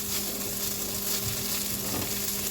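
Turkey barley soup sizzles in a pot on an old stove at medium-high heat, a steady soft crackle and hiss with a low constant hum beneath, close and continuous.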